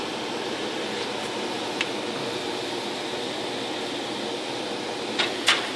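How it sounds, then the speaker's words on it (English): Steady, even rush of air from a waste heat recovery garage heater, a test setup with a 25-foot coil, blowing gently without pause, with a couple of faint clicks near the end. "As you can see, it's not terribly violent blast of air."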